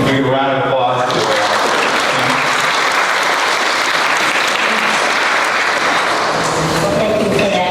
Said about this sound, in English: Can we give a round of applause to